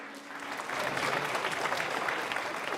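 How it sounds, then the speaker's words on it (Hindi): Audience applause at a Holi comedy poetry gathering (hasya kavi sammelan), a steady dense patter of many hands clapping that swells after a quieter start and holds for about three seconds, with no speech over it. "3-4 लोगों ने ताली बजाई है"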